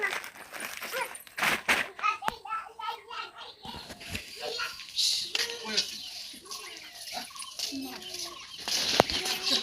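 Chickens and ducks clucking around a family home yard, mixed with children's voices and adult talk, the bird calls moderately close but partly masked by speech.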